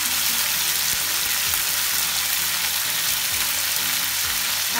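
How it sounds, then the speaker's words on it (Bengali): Potatoes and eggplant pieces seasoned with salt and turmeric fry in hot oil in a pan, giving a dense, loud, continuous sizzle close by with occasional faint knocks underneath and no talking. "এখন এই সবজিগুলোকে একটু ভালো করে ভেজে নিতে হবে"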